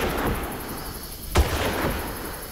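A single sharp gunshot rings out in the Far Cry shooter, a sudden close crack midway through, set against a steady low game ambience with no talking.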